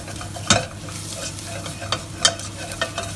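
Garlic, ginger and curry powder get stirred in a frying pan for chicken curry: steady sizzling with several sharp scraping and tapping strokes from the utensil, close and fairly loud, without speech.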